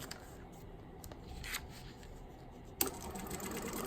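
A sewing machine stitches across fabric with a faint, steady mechanical whir, quiet and close, with a few small clicks and one sharper knock near the end.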